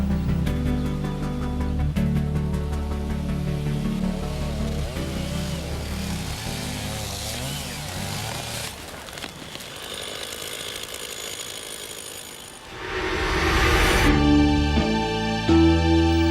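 A chainsaw cuts timber, its engine droning loud and steady at first, then dropping off before revving hard again near the end, with no voices.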